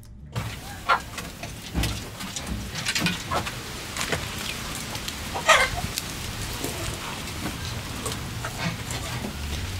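Hens cluck in an outdoor farmyard field recording, with soft, irregular calls and scattered scratches over a steady breezy backdrop, and geese audible faintly far in the distance.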